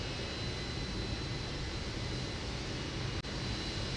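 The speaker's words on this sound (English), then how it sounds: "I hear the turbines whirring." Jet turbines whir at an air show, a steady, even broadband rush with no breaks, moderately loud and unbroken throughout.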